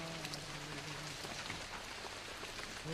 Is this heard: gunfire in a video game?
no